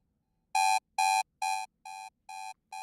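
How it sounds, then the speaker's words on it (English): Six evenly spaced synthesized countdown beeps from the Vintage Q5 sound design toolkit, clean bright electronic tones, the first three louder and the last three slightly softer, with no talk. "trigger a countdown beep going on in vintage Q5"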